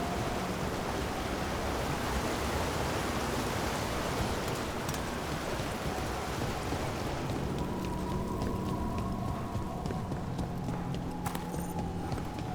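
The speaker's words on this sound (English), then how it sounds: "Ah, waterfall." A waterfall in the video game Dragon Age: The Veilguard rushes as a steady, dense broadband roar throughout, with faint game tones creeping in near the end.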